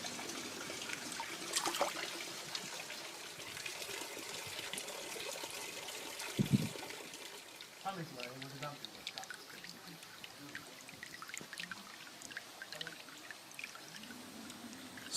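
Water trickles steadily into a garden pond in Japan that is naturally filtered by mountain runoff and stocked with koi, with voices talking over the continuous pouring.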